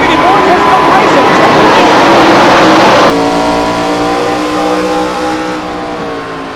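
NASCAR stock car engine roaring in iRacing, a 2003 Pontiac in a night race under the lights, loud and close with a sustained high drone that drops in pitch midway and then holds a steady, slowly fading tone.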